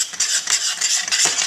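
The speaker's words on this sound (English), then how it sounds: "And we're going to stir until this mixture forms a ball." A spoon scrapes and stirs steadily through thick flour dough in a pot, with soft repeated scraping and knocking strokes, close up and continuous.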